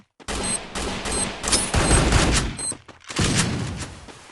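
Rapid bursts of gunfire from the Free Fire video game, loud dense volleys of shots with a brief pause before another burst.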